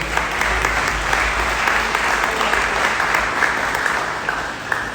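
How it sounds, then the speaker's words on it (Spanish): Loud, sustained applause from a church congregation, a dense continuous wash of clapping that holds steady for several seconds with no voices over it. "Denle un fuerte aplauso a Jesucristo."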